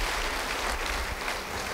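Applause from a church congregation, a steady dense patter of clapping hands filling the room at moderate distance throughout.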